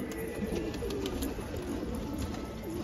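Pigeons in a loft give soft, low cooing calls amid a constant wash of background noise while rain falls, fairly close and continuous.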